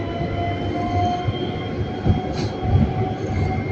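Metro trains passing through Triolo station, a continuous loud rumble of rolling carriages with a faint wheel squeal and brief higher tone mid-clip.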